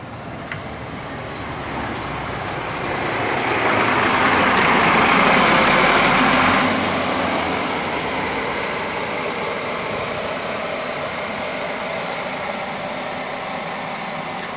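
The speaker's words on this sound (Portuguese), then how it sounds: "Carro 2016, é o prefixo, Volvo B420R." A Volvo B420R bus engine idling at the interstate bus station in Brasília, a loud, steady, close diesel rumble that swells for a few seconds and then settles back to an even drone, with no talk.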